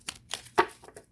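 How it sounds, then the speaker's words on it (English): A deck of tarot cards shuffled by hand, several soft riffling and sliding bursts in quick succession, close but quiet, with no talking. "Do one more shuffle and I'll go back to my normal if nothing pops out."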